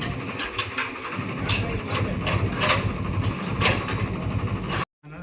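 A tractor engine runs steadily close by in a village, its rattling mechanical chug continuous and loud before cutting off abruptly near the end.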